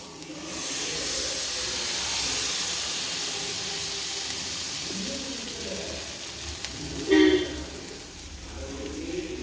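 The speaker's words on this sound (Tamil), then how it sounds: "அப்படியே ஒரு தோசை ஊற்றி காட்டுறேன்" Rava dosa batter sizzles on a hot pan with a steady, close frying hiss throughout and a brief louder spitting burst partway through; faint kitchen movement sits underneath.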